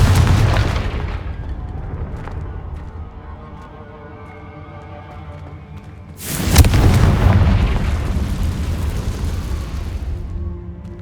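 Confringo fire spell explosion in the game Hogwarts Legacy: a loud, sudden blast midway with a broad burst and rumbling tail over a steady background of game ambience.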